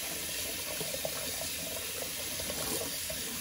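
Hot water runs from a tap over a 24 mm flat-top shaving brush as it is rinsed, a steady close splashing rush with no talk.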